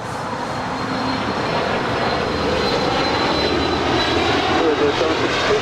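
A Bombardier Challenger 350 business jet takes off at Los Angeles International Airport, its engines giving a steady, loud broadband roar that holds throughout with a faint whine above.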